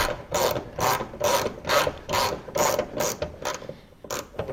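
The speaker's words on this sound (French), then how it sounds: "n'importe quelle clé de 19 convient. Alors, voilà, on dévisse." A 19 mm wrench unscrewing the rear wing bolt of a Citroën DS, a close, rhythmic series of about ten ratcheting rasps, each stroke distinct and evenly spaced.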